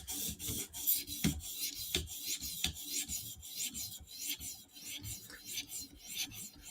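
Titanium knife blade with M4 steel edge drawn in repeated forward and backward strokes across a 400 grit Hapstone sharpening stone, giving a steady close raspy scraping rhythm with no talk.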